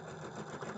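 Sewing machine running steadily while stitching a quilt block, a continuous close whirring hum with the needle's rapid rhythmic chatter throughout, no voices.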